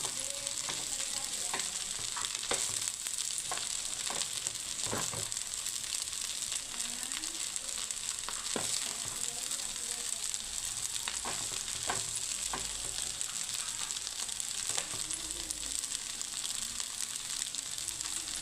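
Tomato rice with coriander is stirred in a hot pan, giving a continuous sizzle punctuated by repeated spoon scrapes and taps, close and steady throughout.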